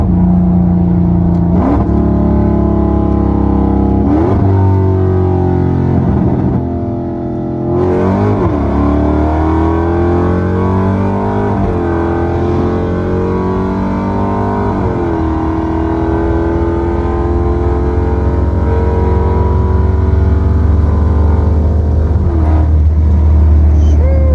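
A Dodge Hellcat 300 accelerating hard with a deep, loud engine roar that climbs through several gear shifts, revving up repeatedly and dropping briefly between pulls, recorded from inside the car.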